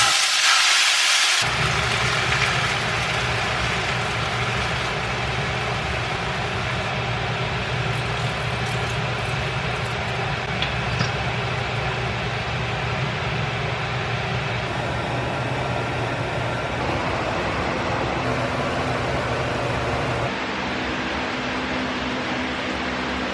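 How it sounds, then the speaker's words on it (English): Kitchen fan running steadily throughout while cooking, a loud broadband whooshing hiss with low hum, its tone shifting slightly a few times but never stopping. "I have my fan on, so sorry about the noise."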